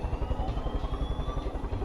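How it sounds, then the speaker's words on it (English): Helicopter in the video game Far Cry 5: a steady, loud low rotor thump with rapid regular pulsing and engine whine, continuous throughout with no talk. "It was great when we used the helicopter."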